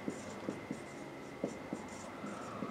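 Pen or chalk writing out an equation, short scratchy strokes in an irregular rhythm of quick taps and scrapes, close and fairly faint over a quiet room hum.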